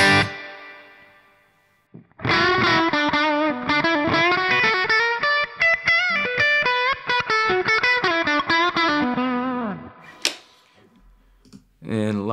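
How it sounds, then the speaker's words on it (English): An electric guitar plays a strummed, rhythmic pattern through plate and spring reverb on a Hotone Ampero II Stomp, drenched in lush reverb, the tail ringing out before a brief flourish near the end. "I'm gonna just add a reverb"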